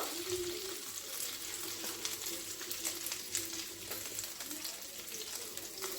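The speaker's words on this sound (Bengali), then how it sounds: "একটু নেড়ে নেব, আর গ্যাসের ফ্লেমটা লোতে রাখবো।" Ginger and green chili paste frying in a pan on a low gas flame and being stirred, a faint steady sizzle with soft scraping throughout.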